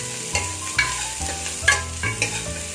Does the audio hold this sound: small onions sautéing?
yes